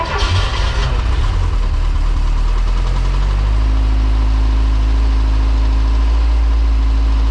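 A Porsche 914 race car engine idles steadily and loudly on fresh fuel, a low continuous rumble with a brief burst of rougher noise at the start before settling into an even drone.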